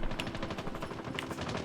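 Rapid automatic gunfire from a mobile shooter game, a steady fast rattle of shots held down continuously, close and fairly loud with no talking.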